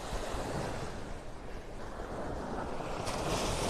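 Ocean waves washing onto a beach in North Naples, Florida, a continuous broad rushing surf roar with wind buffeting the microphone, steady and fairly loud throughout.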